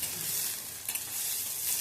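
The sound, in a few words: onions, green chillies and curry leaves sautéing in oil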